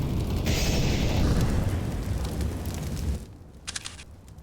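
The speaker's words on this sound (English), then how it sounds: "Great nade damage coming in for both sides." Grenade blasts in a CS:GO match on the Dust2 map, a loud, dense booming rumble that fills most of the stretch, then cuts to quieter distant pops and short bursts.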